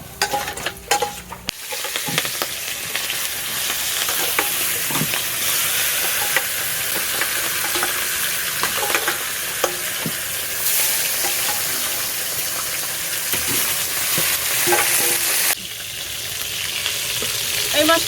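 Katla fish pieces frying in hot oil, a steady loud sizzle with crackling pops and occasional spatula scrapes running throughout, no voices.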